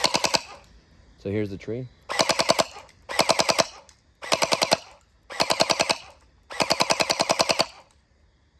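Nerf Nightfall gel blaster with a hopper fires five rapid full-auto bursts outdoors at night, each a loud rattling string of quick shots separated by short pauses, with someone speaking briefly beforehand.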